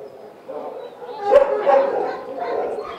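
Dogs at a large animal shelter holding nearly 600 dogs bark and yip in short bursts, with a whimpering, howl-like edge, moderately close, under a narrator's voice.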